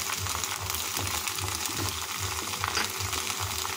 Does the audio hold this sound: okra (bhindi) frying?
yes